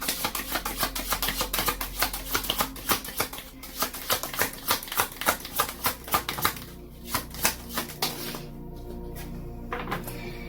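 A deck of chakra wisdom cards is shuffled by hand in quick, crisp riffling bursts with rhythmic flicks and taps. The sound is close and clear, without speech.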